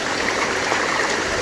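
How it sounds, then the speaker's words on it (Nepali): Steady, dense rushing of a stream running full with newly arrived water, continuous and fairly close, with no voices. "पानी आएको छ क्या खोला"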